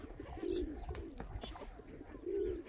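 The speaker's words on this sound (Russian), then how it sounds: "Вот такой вот у нас птичий базар." Birds gather at a Daugava riverbank in early spring, where swans and ducks are fed beside melting ice. Soft dove-like coos come twice at moderate distance over faint outdoor ambience.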